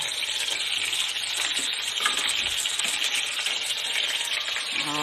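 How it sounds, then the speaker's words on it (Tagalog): Chicken for adobo sizzles and crackles steadily in a hot pan, a dense bright frying hiss with occasional stirring scrapes, close up and without speech. "Prito natin konti para maging masarap ang ating adobo."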